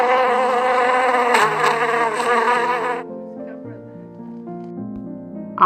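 A buzzing bee drones loudly and continuously for about three seconds, then gives way to quieter sustained tones mixed with background music.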